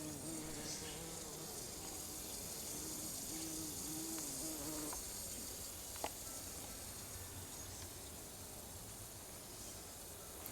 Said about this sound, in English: Oh yeah, we have some nice bumblebees here.